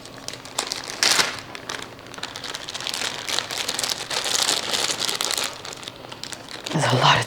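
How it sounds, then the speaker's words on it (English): A Ziploc plastic bag holding a portion of tilapia is handled, giving bursts of crinkling and rustling plastic, close up, with speech. "here's my little Ziploc baggie with meal number 4, which is 5 ounces of tilapia"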